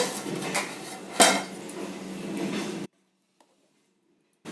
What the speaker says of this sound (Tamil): இப்போ நான் கல்லை எடுத்துடுறேன்